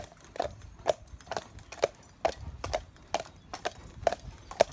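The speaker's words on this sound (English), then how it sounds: "I want him to go along clip, clop, bump." Hooves of a working farm horse being retrained at home, clip-clopping in a steady walking rhythm of about ten distinct, fairly close hoof strikes.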